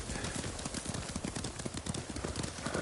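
Horse hooves clip-clopping in the video game Ghost of Tsushima: a brisk, steady run of close, even hoofbeats, with no voices over it.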